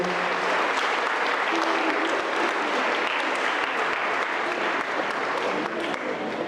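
Applause fills a blessing ceremony for Berg Carmel College: a thick, even wash of clapping from a large audience that keeps going steadily, with a faint voice briefly mixed in near the start.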